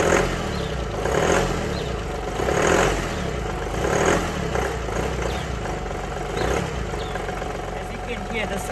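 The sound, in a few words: VW Polo TDI diesel car engine starting and running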